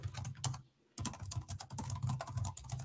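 Rapid clicking keystrokes on a computer keyboard as a new name is typed, close and fairly loud, with a brief pause before the steady typing resumes.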